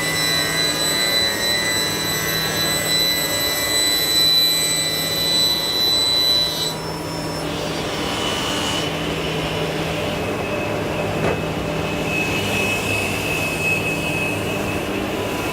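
A panel cutting machine with dust extraction runs in a furniture factory making kitchens and wardrobes, a loud steady roaring drone with high whine that shifts pitch partway through, no voices.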